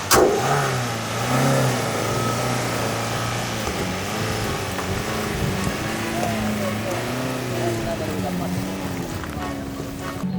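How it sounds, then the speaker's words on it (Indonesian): A long-abandoned former taxi's engine idles smoothly and revs with a wavering hum that rises and falls, close by, while someone talks over it. "Ini dalam kondisi mesin halus."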